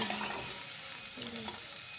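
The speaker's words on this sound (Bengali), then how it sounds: "ফুলকপি ভাজার সময় আমি এটা ঢাকা দিয়ে ভাজবো" Cauliflower fries in a pan with salt and turmeric, giving a soft, steady sizzle and light stirring scrapes at moderate distance, fairly quiet and without talk.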